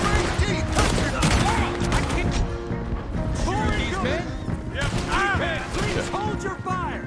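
Dense gunfire from a Red Dead Redemption 2 shootout crackles continuously, loud and layered, with game voices talking over the shots.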